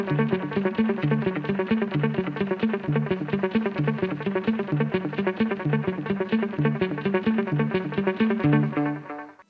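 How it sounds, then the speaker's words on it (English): Electric guitar playing a simple, fast repeating riff through a delay effect, the echoes filling the gaps into a dense, rhythmic, cascading pattern that runs steadily and loudly for several seconds before stopping abruptly, without any talking. "When we add the delay, this riff really comes to life."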